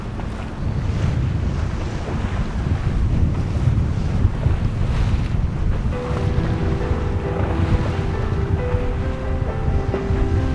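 Steady wind and lapping waves surround a sailing yacht racing out on a breezy bay during an evening club race, with wind buffeting the microphone throughout and a faint tonal hum joining partway through.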